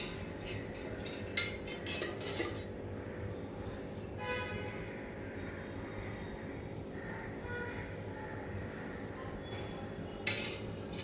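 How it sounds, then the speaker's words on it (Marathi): A cooking pot is handled at home before a spicy chicken kheema, with oil poured in; metal clanks and knocks of the pot come near and moderately loud at the start and again near the end, over a steady low hum. "टोप घेतला मी, त्यात आता मी तेल टाकते."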